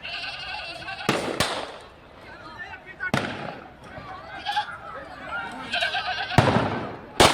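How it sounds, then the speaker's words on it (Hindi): Gunshots ring out in news footage of a police encounter with criminals in Bihar: a handful of sharp, loud cracks spaced irregularly across the scene, over a busy background of crowd noise and voices. "सरेआम गोली चल रही है"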